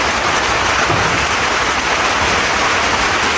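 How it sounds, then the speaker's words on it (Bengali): Heavy rain pours down steadily, a loud, dense, continuous hiss of drops on surfaces close by with no pauses or voices. "মা ঝমঝম বৃষ্টি চলে আসছে।"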